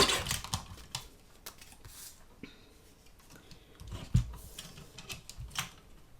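A small paper guillotine trims a card greeting, giving a few sharp, quiet clicks and cutting snaps in close succession, with no talking.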